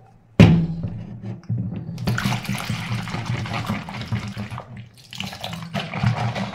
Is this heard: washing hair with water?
yes